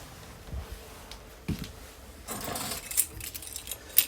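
A set of keys for a 2022 Cougar Half-Ton 30BHS travel trailer, jangling in short metallic bursts close by, with a louder rattle in the second half.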